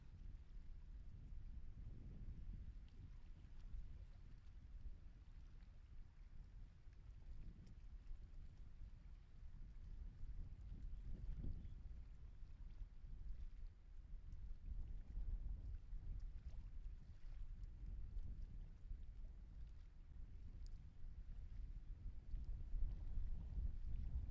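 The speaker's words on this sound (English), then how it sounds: "it's a somewhat blustery day here along Florida's Space Coast" A steady, low, blustery wind rumbles and buffets the microphone on Florida's Space Coast, faint and continuous, with no voices.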